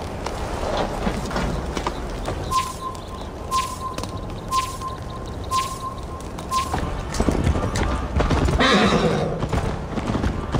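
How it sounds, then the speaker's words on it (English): Horse hooves gallop in Assassin's Creed Valhalla during a race to Jorvik. A steady, close clip-clop rhythm carries throughout, with a whinny and some ambient game sound. "Best not fall off your horse."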